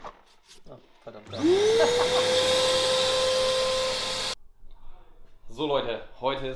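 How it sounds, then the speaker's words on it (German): A vacuum cleaner starts up with a rising whine, runs loudly for about three seconds in a garage where a Golf 2 driving-school car is being prepared, then cuts off before people talk. "Ich mache dir auch den Staubsauger, natürlich."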